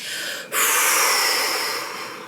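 A relaxation exercise opens with a brief quiet intake and then a long, forceful exhale released to let tense muscles go, a breathy rush that stays loud before slowly fading.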